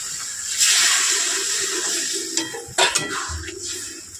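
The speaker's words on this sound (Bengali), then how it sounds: "আমরা আলুটা দিয়ে মশলাটা সঙ্গে ভালো করে চেক করে নিতে হবে আলুর সঙ্গে কষে নেবো" Potatoes being sautéed with spices for a shankar fish curry, with a steady sizzle under clinks and scrapes of a spoon against the pan, plus a few sharper knocks.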